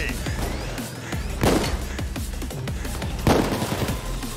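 Gunfire rattles through a Payday 2 firefight, with repeated shots in quick bursts and two heavy explosion-like blasts from a grenade standing out near 1.5 and 3.3 seconds, loud and busy throughout with no speech.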